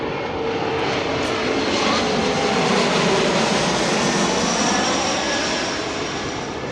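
An airplane taking off, producing a loud, continuous broadband engine roar that holds steady and then eases slightly toward the end, with no voices.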